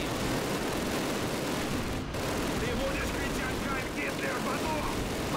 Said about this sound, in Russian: Просто обстрел.